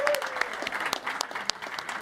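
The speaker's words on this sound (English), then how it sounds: "Let's give them a round of applause, everybody." Audience at a live tech conference stage session applauds, a steady burst of clapping with scattered louder claps and faint crowd noise throughout.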